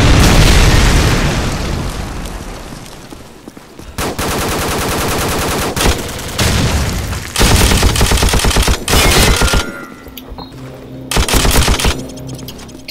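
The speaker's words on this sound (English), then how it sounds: "Friendly airstrike on the way." Call of Duty 4 multiplayer with an M60 machine gun and an incoming airstrike: a heavy explosion opens, then loud sustained automatic bursts broken by short pauses, with booming blasts mixed among the rapid gunfire.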